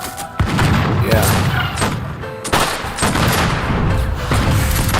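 Mortars and old-school cannons fire in a multiplayer strategy game, with repeated sharp blasts and booming impacts at irregular intervals over constant battle din, and a voice briefly speaks.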